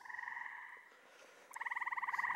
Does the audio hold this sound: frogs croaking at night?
yes